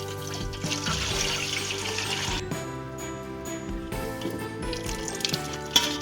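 Beef stock poured into a cooking pot for beef pulao, a continuous liquid splashing and gurgling with small clinks, heard close and without any talk.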